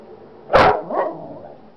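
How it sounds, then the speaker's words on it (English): A dog lets out one sharp, loud bark close by, followed by a softer trailing yelp, then quiet. "Why do you always bark in their face?"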